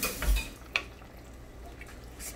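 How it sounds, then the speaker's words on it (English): A spoon stirs chickpeas in a pot of water, giving a few soft knocks and clinks against the pot followed by quiet swishing. "Give it a nice stir."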